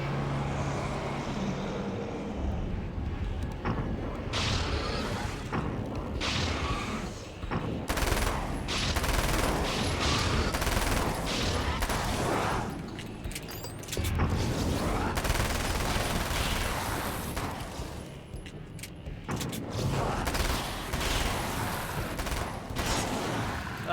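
Sustained carbine gunfire in the game Alan Wake, dense rapid volleys with explosive bursts and rumbling noise continuing almost unbroken, loud and close, with no speech.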